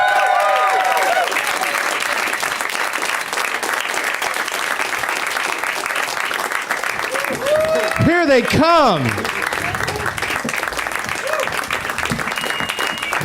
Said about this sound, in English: A little light on the applause